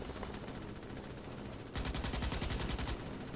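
Rapid automatic gunfire from the sci-fi shooter Starship Troopers: Extermination during a base defense, a steady dense rattle of shots that grows louder and punchier partway through, with no talking.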